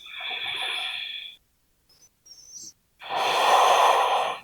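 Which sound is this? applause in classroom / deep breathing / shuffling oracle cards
deep breathing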